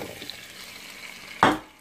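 Sweet potatoes drop into a stovetop pan of melted butter with a sudden wet sizzling splash near the end, after a quiet stretch of faint kitchen noise.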